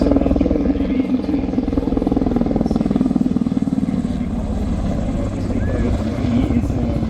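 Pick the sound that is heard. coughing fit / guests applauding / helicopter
helicopter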